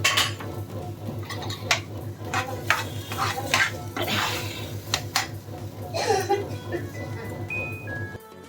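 Raw mango chutney with chopped coriander is stirred in a pan on a stove, giving scattered scraping and clinking taps of a spoon against metal over a low steady hum, with someone talking intermittently.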